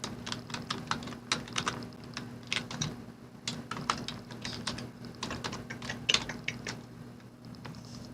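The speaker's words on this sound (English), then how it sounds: "and we'll type it up there now." Irregular computer keyboard typing at moderate volume over a steady background hum, quick clusters of key clicks with brief pauses, no voices.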